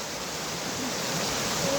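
Rushing water from a waterfall makes a steady, broad hiss that swells slightly louder, heard up close on a Sunday crossing with no talk over it.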